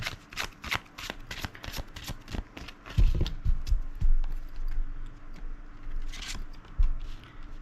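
Tarot cards shuffled close up in a rapid riffling flutter of dense papery ticks, with a few heavier soft thumps partway through as the deck is handled, and no voice.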